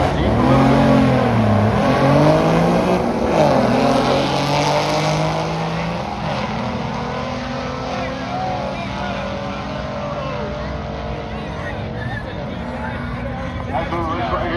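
A Toyota Supra and a Ford Mustang drag race, their engines roaring and rising in pitch as they accelerate, loud at first and then fading a little, with a commentator talking over them.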